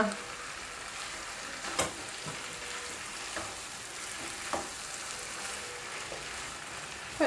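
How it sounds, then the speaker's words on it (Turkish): Rice sautéed and stirred in a pan for pilaf gives a soft, steady sizzle with a few sharp scrapes of the spoon against the pan. "çevire çevire kavuruyorum"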